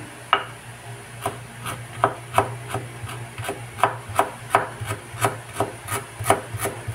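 A knife chops ginger finely on a board in a quick, regular rhythm of crisp, close taps, about two strokes per second, over a low steady background hum, with no talking.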